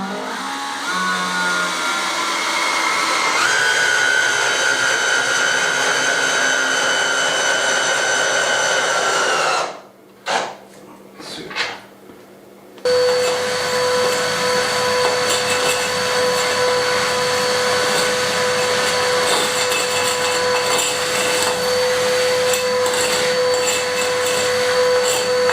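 A Henry vacuum cleaner sucks up drilling dust while a 150-year-old finca is refitted as an office: a loud, steady motor whine that cuts out briefly midway, then restarts with a sustained tone.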